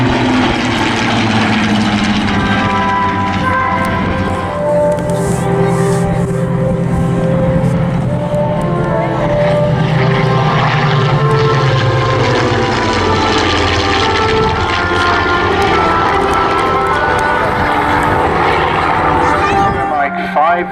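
Spitfire aircraft, a Mark 19 and a Mark 5B, flying a display at the Southport Airshow: a loud, continuous piston-engine drone with shifting pitch as the aircraft pass, with a commentator talking over it.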